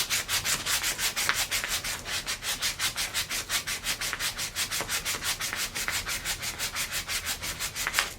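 Rhythmic back-and-forth sanding strokes scrape old paint off wooden furniture toward bare wood, steady and close with no talk.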